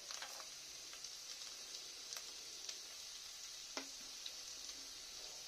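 Chopped onion and garlic fry in hot oil in a pan, giving a quiet, constant sizzle dotted with small pops and ticks.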